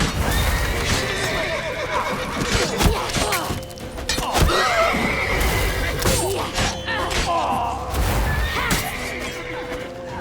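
Horses whinny and snort repeatedly amid hooves clattering and thudding in the video game The Witcher 3, with a dense, busy mix of commotion throughout.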